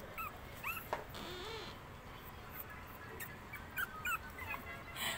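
A chihuahua whimpers and yips in short, faint, high-pitched bursts indoors, with a quiet background hiss.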